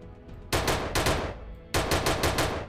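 A helicopter-mounted gun fires in the video game Unturned, with a Resident Evil 6 vehicle mod: two loud, close bursts of rapid automatic shots, each several rounds long, separated by a short pause.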